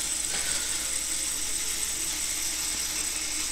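A hybrid harmonic drive motor under Wi-Fi control runs at full speed, giving a steady, fairly loud mechanical whirr with a fine ratcheting, gear-like texture that holds constant throughout with no talk.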